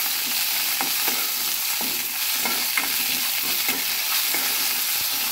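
Dried red chillies, curry leaves and coriander fry in a pan while a spoon stirs them, a continuous close sizzle punctuated by regular scraping strokes about once a second, with no voices.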